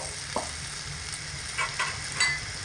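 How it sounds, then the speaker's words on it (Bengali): A wet paste of ground cumin and pepper goes into chillies frying in oil, giving a short burst of close sizzling with a few soft stirring scrapes. "এর মধ্যে বাকি মশলাগুলো দিয়ে দিচ্ছি জিরে মরিচ একসাথে জল দিয়ে একটু বেটে রেখেছি"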